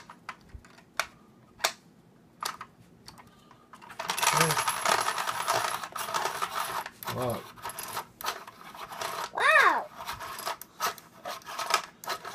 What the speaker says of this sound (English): Just to make sure that the sharpener works.